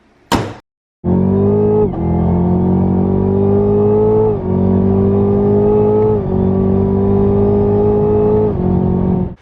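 A 6th-gen Chevrolet Camaro fitted with a cold air intake pulls away on a test drive after a brief clunk, its engine droning loudly and close as it climbs through several gears with short dips at each shift.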